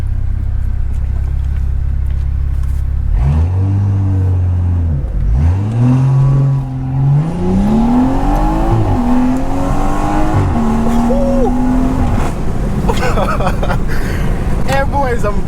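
A BMW 340i launches hard, engine droning at idle before revving sharply and pulling through several upshifts, each climbing tone briefly dropping, loud and close; someone talks over part of it.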